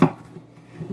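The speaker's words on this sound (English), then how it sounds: "Let me slice this tomato" A kitchen knife slices through a tomato, giving one sharp cut at the start and lighter, fainter knife contact against a board near the end.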